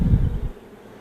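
Honeybees buzz loudly and close while a capped brood frame is handled at an open hive during queen rearing; the low hum is strongest in the first half second, then fades to a faint drone.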